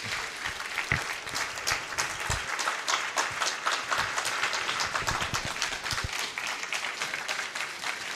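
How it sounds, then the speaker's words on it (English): Sustained standing ovation at a university School of Agriculture 50th anniversary launch, a dense wash of many hands clapping steadily from a large crowd in a hall, with no voices over it. "A standing ovation for them as we appreciate their sacrifices and efforts in getting the School of Agriculture where it is today"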